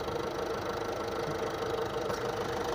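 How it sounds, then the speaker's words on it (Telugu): Ford EcoSport Titanium (2017) engine idling steadily after starting, a continuous close mid-low rumble with a faint ticking texture and no voices. "ఒకసారి ఇంజిన్ కూడా స్టార్ట్ చేసి చూసుకుందామండి."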